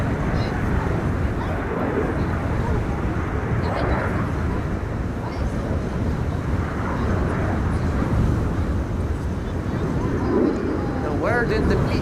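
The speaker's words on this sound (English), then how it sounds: "There's Bizjet taking off from runway 22 right now." A business jet taking off from runway 22 at Amsterdam Schiphol Airport in high storm winds, its engines a continuous broad roar mixed with gusting wind noise throughout.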